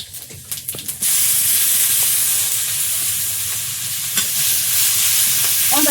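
Whole spices tempering in hot oil left in a wok after frying koi fish, bursting into a loud, sustained hiss after a few brief clatters at the start, with occasional spatters over the steady sizzle.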